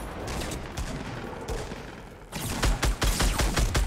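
Rapid gunfire bursts in the Fortnite video game crackle through a match, dense repeated shots growing louder and sharper in the last seconds.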